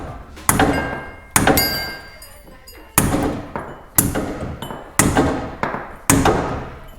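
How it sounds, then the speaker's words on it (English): A big hammer strikes an install cup to seat a boot, six or seven sharp metallic blows spaced about a second apart, each ringing briefly and fading before the next, loud and close. "you use the cup and a hammer to install the boot"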